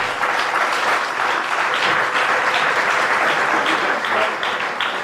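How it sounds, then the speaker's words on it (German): Festival audience at a local election forum in Dresden breaks into loud, dense applause, a sustained crowd of many hands clapping evenly throughout without any speech. "Ein Applaus dafür"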